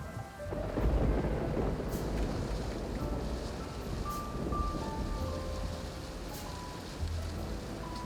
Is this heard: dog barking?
no